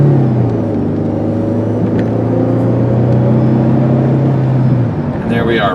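A 2002 Jeep Liberty Sport 4x4 in two-wheel drive accelerates through its gears past 50 mph, a steady, loud engine drone and road rumble heard from the cabin, partly under a voice.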